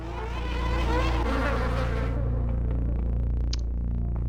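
Dense swarm of bees buzzing in System Shock 2, a loud continuous droning hum with wavering overtones that thins out partway through and continues lower under the game's ambient hum.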